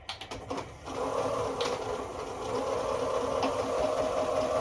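Stitching a tote bag seam, a sewing machine starts with several quick clicks and short taps, then settles into a steady, continuous whirring run at close range, moderately loud and alone.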